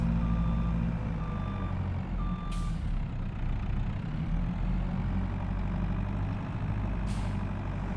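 A telehandler idles with a low, steady, chunky engine rumble while three evenly spaced reversing beeps sound, followed by two brief hissing bursts.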